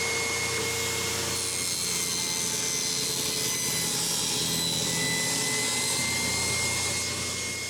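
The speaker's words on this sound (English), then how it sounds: "I'm going to make it in 2 passes on the table saw." A table saw cuts a 1/8-inch-wide, 1/4-inch-deep groove in wood, giving a steady, loud whine and rasp of blade through timber that holds evenly throughout without pause.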